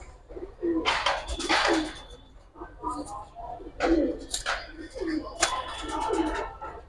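Giribaz and colored pigeons coo in soft repeated bursts close by, along with rustling and scratching, while people talk over them.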